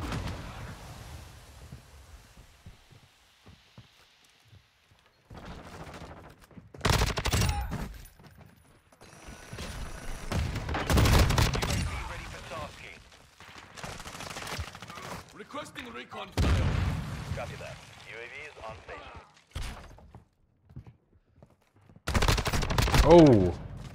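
Bursts of automatic gunfire in Call of Duty: Modern Warfare 2 multiplayer, loud volleys separated by quieter gaps, with rapid mechanical clatter between shots.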